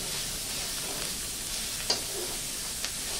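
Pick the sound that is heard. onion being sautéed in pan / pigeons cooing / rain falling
onion being sautéed in pan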